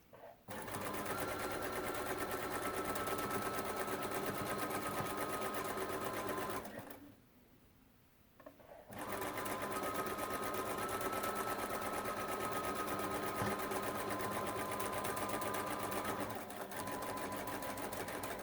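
Sewing machine stitching binding along the edge of a fabric placemat, a steady continuous whirring run that pauses for about two seconds midway and then resumes just as evenly and loudly.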